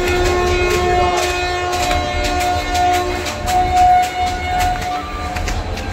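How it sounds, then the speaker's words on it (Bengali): Shalimar Express pulling slowly into a station platform, a steady loud rumble of wheels and cars with rhythmic clicks throughout and sustained horn tones sounding over the train noise. "এখন ট্রেন ঢুকছে, দেখাচ্ছি তোমাকে। একদম পুরো আস্তে আস্তে, বহুত স্লো, মানে শালিমার এক্সপ্রেস তো একদম স্লো হবে।"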